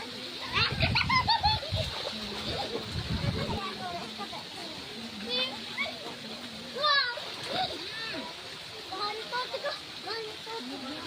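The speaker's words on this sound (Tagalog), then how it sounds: "Naglulundagan dito sa tubig." Children splash and jump in water outdoors while cooling off in summer, with repeated splashes near the start under kids' chatter, then flowing water and birdsong in the background.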